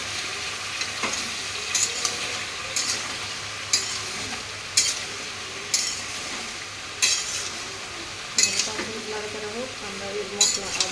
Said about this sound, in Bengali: এটাকে এবার ভালোভাবে নাড়াচাড়া করে নেওয়া হবে